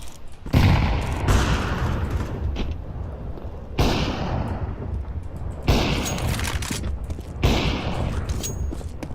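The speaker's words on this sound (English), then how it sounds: "Grenade out." Loud booming blasts and bursts of gunfire in a tactical shooter, several heavy impacts spaced a couple of seconds apart, each decaying into rumbling noise, close and dense.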